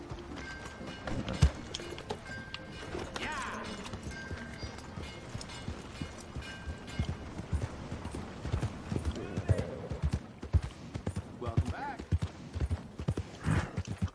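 A horse gallops with steady clip-clop hoofbeats and lets out a neigh in the Red Dead Redemption 2 video game, heard close and continuous alongside faint game sounds.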